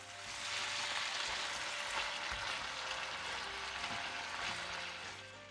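Chicken pieces and seasoned sauce, for a soybean-sauce braised chicken with mushrooms, sizzle steadily in a hot wok, a dense continuous hiss that swells and holds for several seconds with no talking.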